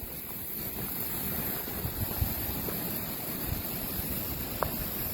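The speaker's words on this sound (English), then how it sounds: "show you the little waves in the lake" Wind blows across Neosho State Fishing Lake on a windy day, with small waves lapping in a steady, soft wash under rumbling wind buffeting the microphone and a few faint splashes.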